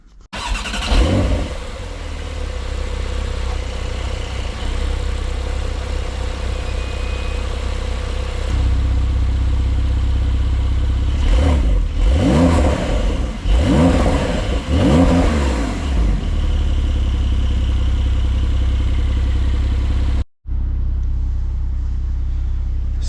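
A Porsche 992 Cabriolet engine idles and then revs repeatedly in short bursts in a crowded area, loud and close, with the rumble rising and falling before briefly cutting out.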